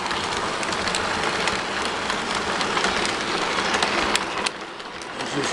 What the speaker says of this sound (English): As this train comes through,